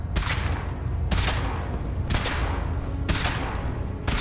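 A weapon suit being test fired in a Fallout video game aboard the Brotherhood of Steel airship Prydwen, four evenly spaced loud blasts about a second apart over a steady heavy rumble.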